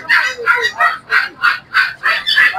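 Chickens squawk in a steady string of about eight loud, evenly spaced calls, close by, at a pet market.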